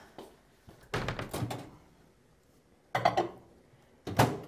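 A microwave door thunks shut with a few clattering knocks, followed by two more solid closing thuds after short pauses, close by.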